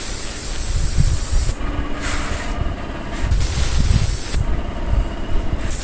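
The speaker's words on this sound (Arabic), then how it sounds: "هنسيبه بقى يشد وبعدين هندي المجموعة بتاعتنا مجموعة الورنيش." Spray gun laying a varnish clear coat over a freshly painted surface, a steady close hiss in long bursts separated by brief pauses, with a low rumble underneath.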